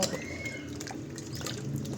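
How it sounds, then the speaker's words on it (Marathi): Homemade butter being washed in water by hand, soft close sloshing and dripping with small liquid splashes, steady and fairly quiet, no voices. "जोपर्यंत हे पांढरं पाणी येत नाही तोपर्यंत हे सगळं धुवायचं आहे स्वच्छ"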